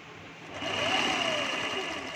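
Sewing machine stitching a dhoti salwar, giving a brief, faint mechanical whir that swells after about half a second and holds steady, alone without talk.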